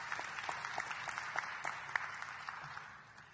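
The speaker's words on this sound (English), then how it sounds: "Let's give them a round of applause." Audience applause at a North Carolina Central University winter commencement, a faint, distant wash of clapping in a large hall, steady and fading toward the close.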